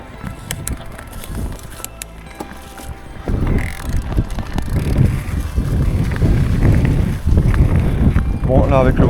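Gusty wind buffets the microphone during a mountain bike ride on an e-bike, loud rumbling bursts that swell and persist while riders talk over it.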